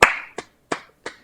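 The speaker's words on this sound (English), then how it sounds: "just a quick applause for Michael Douglas on that" Four sharp, separate hand claps in a slow uneven rhythm, close and dry, each decaying quickly into silence, from a small group on a podcast.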